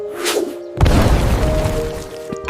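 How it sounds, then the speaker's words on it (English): Cartoon-style leaf explosion effect: a sudden loud boom and burst after a brief whooshing lead-in, followed by a scattering, crackling tail that lingers for a couple of seconds. "Leaf explosion!"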